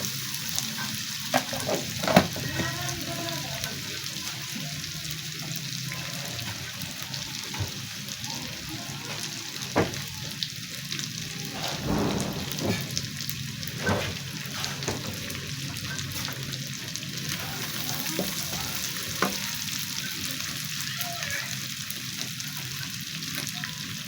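Tomato paste sizzles and fries in a hot tadka for moong masoor dal, a steady soft crackle with occasional stirring taps, fairly quiet and continuous.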